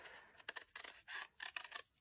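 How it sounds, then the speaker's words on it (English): Scissors cutting out a paper space shuttle shape, a quiet close-up series of about eight crisp snips in an uneven rhythm, with no talking. "I'm going to cut it out using my scissors"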